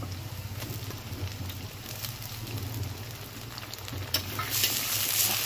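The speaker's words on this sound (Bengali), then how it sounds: "এবার আমি টমেটো আর কাঁচা লঙ্কাটা দিয়ে দেবো।" Onions frying with tomato and green chilli added in a pan over a wood fire, a steady close sizzle with occasional stirring clinks, louder near the end, no voices.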